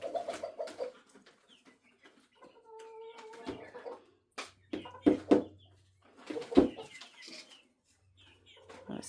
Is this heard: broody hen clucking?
yes